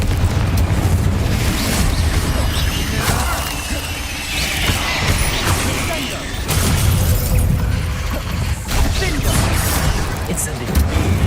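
Explosive Confringo spell blasts from the Hogwarts Legacy video game, a dense run of loud booming bursts and crashes that fill the whole clip, with voices shouting over the noise.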